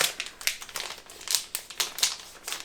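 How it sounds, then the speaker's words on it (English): Crinkling plastic packaging around a new angled e.l.f. liquid blush brush, a close series of sharp, irregular crackles and rustles coming in quick bursts with no talking. "The crinkling is that I have a new brush, the e.l.f. liquid blush brush"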